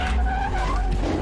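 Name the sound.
car starting and crashing in a video game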